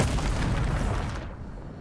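A Bombarda spell blast in the Hogwarts Legacy video game, a loud booming explosion that rumbles and fades over about two seconds, with no talk over it.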